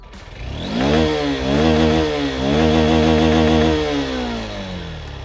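A Honda XBlade BS6 motorcycle with a side-hung single-barrel twin-exit exhaust is revved hard several times, the engine note rising and falling loudly and close by before settling back.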